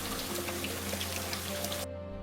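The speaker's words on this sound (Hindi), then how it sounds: "इतनी बारिश हो रही है" Heavy rain pours in a dense, steady hiss with scattered drip-like patters, loud and close, cutting off abruptly near the end.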